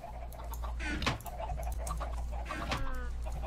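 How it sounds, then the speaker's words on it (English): Chickens clucking in the video game Minecraft, a few short bursts of close clucks and squawks over a steady low background hum, with no one talking. "I got some more chickens to put in here."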